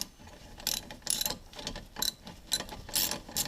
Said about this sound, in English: Then we're going to use our ratchet to tighten them back up.